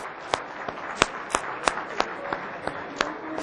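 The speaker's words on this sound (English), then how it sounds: "Can we give her a big round of applause?" A conference audience in Islamabad claps in sparse, separate sharp hand claps spaced a few tenths of a second apart, like a handful of people rather than a full crowd, at moderate loudness.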